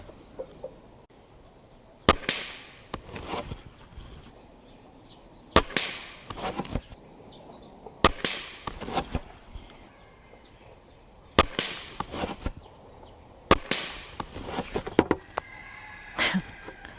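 Gamo Swarm Fusion Gen 2 air rifle fires a string of pellets at a target, five sharp, loud snapping shots spaced a few seconds apart, each with a brief ringing tail over quiet background.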